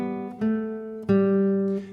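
An acoustic or electric guitar in a beginner lesson plays a strummed chord, then three single notes in steady quarter-note rhythm, clear and close with each note ringing into the next.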